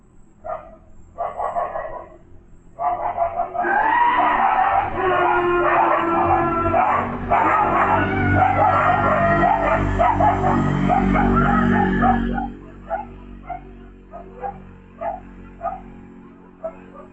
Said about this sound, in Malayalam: ഇവരുടെ വാഹനത്തിന് പുറകെ കുരച്ചെത്തുകയായിരുന്നു നായ്ക്കൾ.